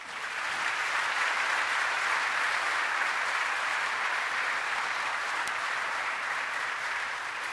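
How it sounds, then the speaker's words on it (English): Broad, steady crowd applause filling a baseball stadium at the Atlanta Braves' Civil Rights Game, a continuous wash of many hands from a large distant audience, holding level throughout. "let's give that great man a round of applause."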